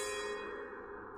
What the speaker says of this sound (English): I could have sworn I heard the doorbell.